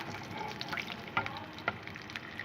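Butter starting to fry in a little oil in a frying pan over a low flame, a faint, quiet crackle with a few soft pops.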